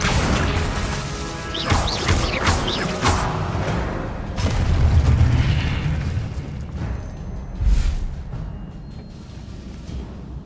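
Spells cast in Hogwarts Legacy on a night-time outing, heard as loud whooshing bursts, crashes and booming impacts that pile up over a constant rumbling game soundtrack, with no clear talking.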